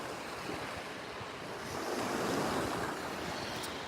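Sea waves washing in with steady wind buffeting the microphone at the Portsmouth docks entrance, a continuous loud surf roar that swells slightly midway, with no voices.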